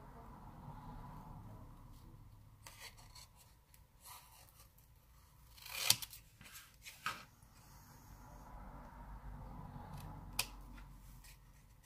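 Scissors snipping around a snowman figure cut from a Dollar Tree Christmas card, a few soft scattered cuts and rubs at close range, with quiet background noise between them.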